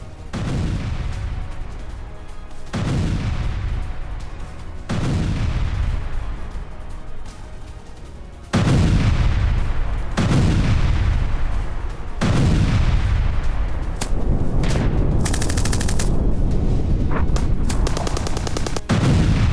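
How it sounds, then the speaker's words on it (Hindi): Hand grenades are thrown to clear mines, each one a sharp, heavy boom followed by a rumbling tail, about eight blasts at irregular intervals, loud and fairly close, with no talk. "ये देखिए जरा किस तरीके से माइंस हटा रहे हैं, हैंड ग्रेनेड फेंक फेंक के।"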